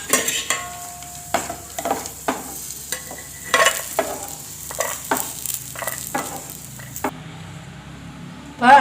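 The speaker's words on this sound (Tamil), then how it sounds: "முந்திரி பருப்பு போட்டதுக்கப்புறம் திராட்சை சேர்த்திங்கன்னா 2 ஈவனாக பொரிச்சு எடுக்கலாம்" Cashews and raisins fry in hot ghee with a soft continuous sizzle, broken by repeated spoon stirs and scrapes against the pan, ending with a brief louder clatter.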